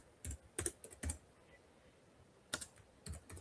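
Quick, quiet tapping on a computer keyboard while a registration link is typed out, in short bursts with brief pauses between keystrokes and no voices.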